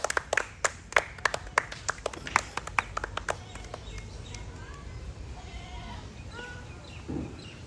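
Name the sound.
crowd clapping loudly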